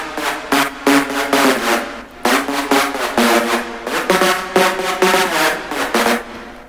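An octave-down synth layer for a big room EDM drop, using the same preset as the layer above it, plays bright, buzzy sustained chords in a chopped, pumping rhythm of short stabs and held notes, loud and with no voices.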